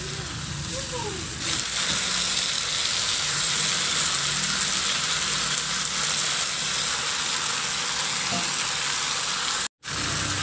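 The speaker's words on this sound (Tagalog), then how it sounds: "At ihalo lang at igisa ng mabuti." Boiled pork hock is stirred and sautéed in a pan, giving a loud continuous sizzle with occasional scraping, close up, while someone talks briefly at the start.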